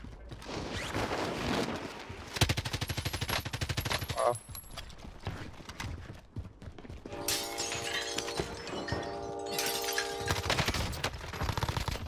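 Rapid automatic gunfire in the video game Warzone, loud bursts of fast shots with sharp impacts and other in-game noises layered together, continuing in waves across the stretch.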